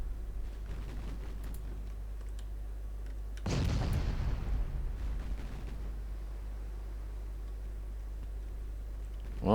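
A single heavy naval gun blast firing armour-piercing shells in the Ultimate Admiral Dreadnoughts naval game, a deep boom midway that rumbles and fades over several seconds against a steady low engine hum.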